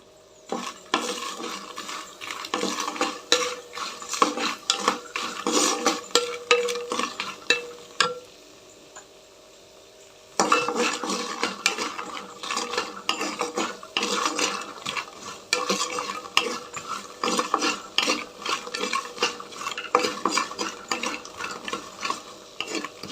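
Makhana (fox nuts) frying in oil in a home kitchen for a Rayalaseema-style gravy, with a utensil steadily scraping and stirring against the pan. The clatter runs continuously, briefly thins out midway, then resumes at full strength; no one speaks.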